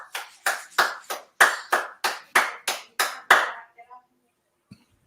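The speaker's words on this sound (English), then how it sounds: "That was 2 hands clapping." A single person claps two hands together about a dozen times in a quick, even rhythm, each clap sharp and close, before the sound stops and near silence follows.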